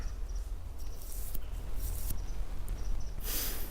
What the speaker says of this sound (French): si vous entendez les oiseaux, hein, c'est parce que je suis dehors